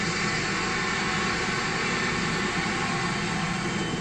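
NASA's shuttle carrier aircraft, a jumbo jet carrying Space Shuttle Endeavour on its back, flying over the Space Coast, a steady loud continuous engine roar throughout with no talking.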